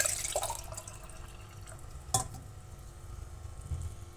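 Water is poured from a metal vessel into a pot of fenugreek-leaf dal, a steady, soft splashing with faint stirring and a sharp clink partway through.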